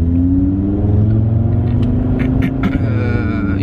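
An Audi RS3 with its catalytic converters removed rolls onto a garage lift, its engine a loud, steady, low rumble close by, with a few faint clanks near the end.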